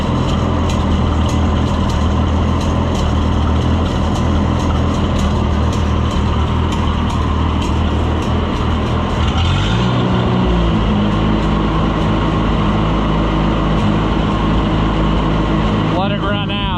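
Oliver 1365 tractor (Fiat 640) engine idling steadily and loud after the fuel is shut off, a continuous close rumble with a shift in tone partway through as it keeps running.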